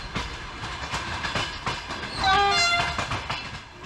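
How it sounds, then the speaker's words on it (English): A Softrans Hyperion high-speed train runs through the Romanian countryside, with a steady rolling rumble and rhythmic clatter joined midway by a brief squealing, whistling tone, loud and close with no talk. "We'll be speeding through Romania's countryside as this unique train makes its way towards the Black Sea."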